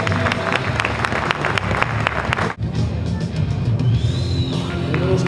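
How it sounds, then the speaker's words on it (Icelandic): Audience applause at Fákar og Fjör 2013, an Icelandic horse show, with dense clapping and crowd noise in a large arena, a brief dip midway, and a voice speaking over the later part. "Gefið þeim gott klapp frá honum"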